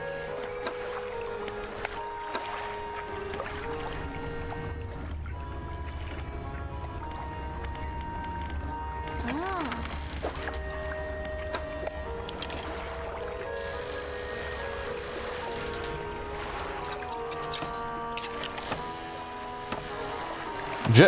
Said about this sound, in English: Jet drive engine.